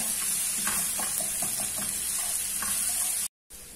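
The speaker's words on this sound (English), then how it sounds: "We'll stir the onions till they're golden, tender and soft." Onions stir-fried in a pan sizzle with a steady, loud frying hiss, broken by soft stirring scrapes, and cut off briefly near the end.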